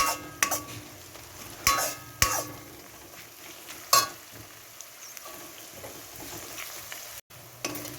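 Dried curry leaves and cumin fry in oil for chicken curry with a quiet sizzle, broken by several loud clattering knocks and scrapes of a spoon against the pan.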